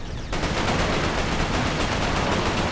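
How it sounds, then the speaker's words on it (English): Rapid bursts of gunfire mixed with an explosion in the video game Resistance, dense and loud after a brief quiet start, continuing without pause. "I suppose I got at least one Chimera with that explosion."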